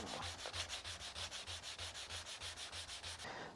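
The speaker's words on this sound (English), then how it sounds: "I'm now going to use a 240 grit" Hand sanding of a wood inlay with 240 grit sandpaper: even, rhythmic back-and-forth rasping strokes, about four per second, close and fairly quiet, with no voices.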